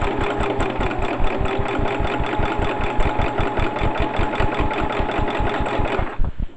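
A sewing machine runs steadily, stitching fabric for lingerie, with a fast regular mechanical clatter that is close and loud for about six seconds before stopping abruptly.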